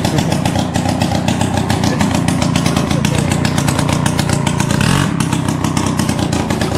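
TVS XL 50 moped engine starting and running, a loud, continuous buzzing putter heard close up, with a brief vocal exclamation at the start.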